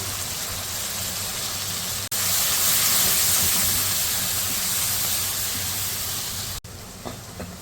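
Kashmiri chilli, turmeric and spices fry in a pan, giving a steady loud hiss and sizzle close by that cuts off abruptly twice.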